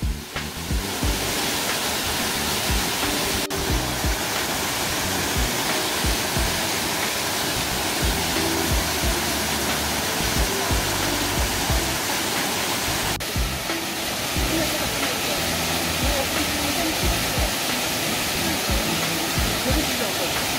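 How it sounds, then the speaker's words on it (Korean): Huibang waterfall at Huibangsa temple in Yeongju, Korea, roars as a loud, steady broadband rush of falling water that fills the whole scene without a break. "드디어 희방사야 희방폭포에 도착을 하였습니다."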